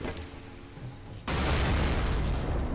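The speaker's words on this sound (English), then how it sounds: "your explosions are so much bigger, so much further" Explosion in a co-op Lara Croft video game, a sudden loud broad boom that cuts in midway and rumbles on to the end, no voices.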